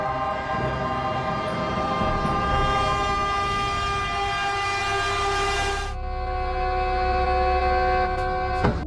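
A train sounds its horn in a long sustained blast, loud and near, over the rumble of rail wheels on the tracks, with the horn's pitch shifting partway through.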